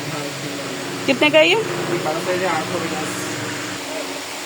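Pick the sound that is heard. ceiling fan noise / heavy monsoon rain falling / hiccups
ceiling fan noise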